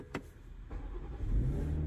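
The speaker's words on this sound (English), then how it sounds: "Let's start her up." A car engine cranks and catches, then settles into a low, steady idle that grows slightly louder toward the end, heard from inside the car.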